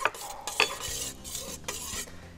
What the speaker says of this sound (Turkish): Sosumu ekledikten sonra şöyle bir karıştıracağım.